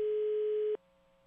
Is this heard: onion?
no